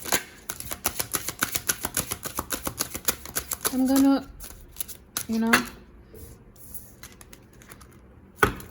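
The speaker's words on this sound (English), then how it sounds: "I'm habitual of shuffling oracle decks." Tarot of Mystical Moments deck by Catrin Welz Stein shuffled by hand: quick, dense papery riffles and card slaps at close range, with short stretches of a voice talking over it.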